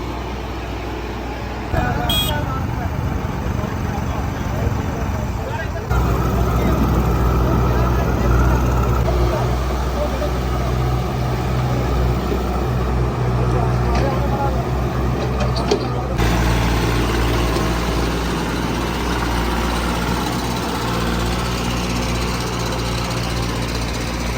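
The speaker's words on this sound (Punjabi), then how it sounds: "ਨਾਲ ਟਰੈਕਟਰ ਵੀ ਤੁਰਨ ਲੱਗੇ" Heavy tractor engines rumble and idle continuously beside a JCB, hauling soil-loaded trolleys on a river embankment, a low steady drone with machinery clatter, loudening partway through, with voices occasionally audible underneath.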